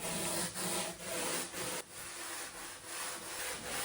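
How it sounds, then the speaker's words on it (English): Steady, rhythmic rasping as a foam surfboard blank is sanded by hand, close by, with regular back-and-forth strokes and no voices. "After 1 more hour sanding"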